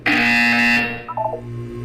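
A loud electronic buzzer from the Portal 2 video game sounds steadily for nearly a second, then cuts off, followed by a few short, quieter tonal blips.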